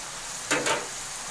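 Potato, eggplant, pointed gourd and egg cook in a large wok in a girls' hostel kitchen, and a ladle scrapes through them in two short, close stirring strokes over a faint background.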